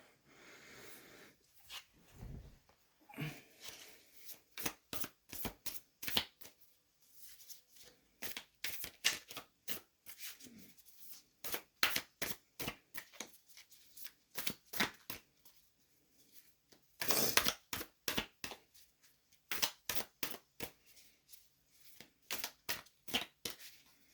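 Tarot cards shuffled and pulled by hand during a card reading: close, rapid riffling bursts in quick rhythmic runs with short pauses between, no talking.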